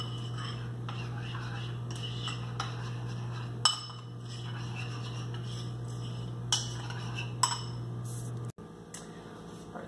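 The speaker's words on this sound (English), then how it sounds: "We're just going to mix that all up really good." Frosting with a quarter teaspoon of vanilla stirred in a bowl for a keto cheese Danish, with faint scraping and occasional light clinks of a utensil against the dish over a steady low hum.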